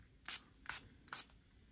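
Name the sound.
spraying eucalyptus pillow and room mist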